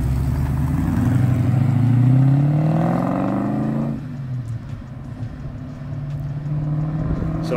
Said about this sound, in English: So here's me and Darren out driving again.